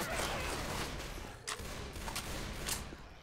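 Faint Left 4 Dead 2 gunfire, a low rumbling wash of distant shooting punctuated by a few sharper cracks spaced roughly half a second apart.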